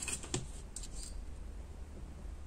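Paper is cut with scissors for a handmade light-up Christmas greeting card, giving a few brief crisp snips early on, then quiet room hiss.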